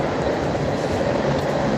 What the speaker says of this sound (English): Yeah, there's the coal train.